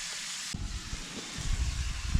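Burger patties topped with mashed-down onions frying on a hot griddle, a steady broadband sizzle with low crackling pops that grows louder and busier after a sudden start.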